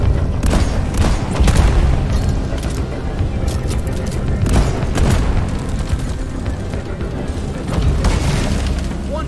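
Detonator explosions in the Deep Rock Galactic video game, loud, deep booming blasts with rumbling tails, several large bursts in a dense, continuous barrage of game noise.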